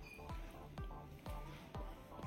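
Mashed potato dough worked by hand with cornflour in a home kitchen: soft, rhythmic wet squishes about every half second, quiet and close, with no talking.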